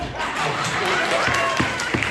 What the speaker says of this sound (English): That's the most applause we've gotten all evening